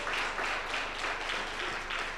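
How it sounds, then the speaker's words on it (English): An audience at a formal ceremony marking the repatriation of Namibian remains from South Africa gives a sustained round of applause, many hands clapping steadily at a moderate distance. "I think we need to give them a loud round of applause"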